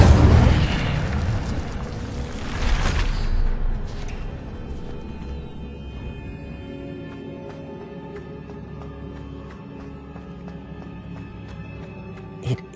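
An Incendio fire spell cast in Hogwarts Legacy opens with a loud whooshing boom. The blast swells and then fades into a long, quieter rumbling tail.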